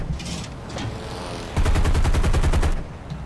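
Rear gunners of a B-25 bomber fire machine guns in the combat flight game War Thunder: a short burst opens, then a loud, rapid stream of shots follows over steady engine drone, with no voices.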